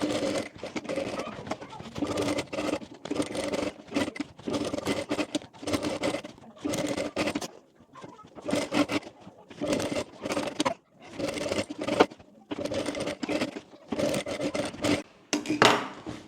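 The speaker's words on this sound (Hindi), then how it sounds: "पूरे में इस तरह से स्टिच कर लेंगे" A sewing machine stitches along the hem of straight palazzo trousers in a quick, even clatter. It runs in many short bursts separated by brief pauses, close and clear, with no voices.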